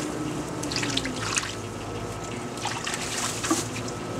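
Water sloshes and trickles steadily in a gold pan while panning heavy minerals and zircon, a soft continuous close-up swishing with no talk.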